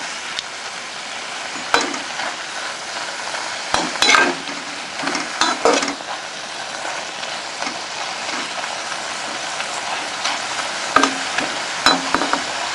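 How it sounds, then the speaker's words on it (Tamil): Spinach (palak) sautés in a pan, giving a steady close sizzle broken by repeated scraping stirs and spatula knocks at irregular intervals. "இன்னும் ஒரு 2 மினிட்ஸ் வதங்கினா போதும்"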